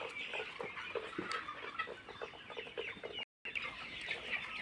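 Colour bird chickens cluck steadily on a poultry farm, many birds at once, with fairly quiet, continuous calls and a brief dropout near the end.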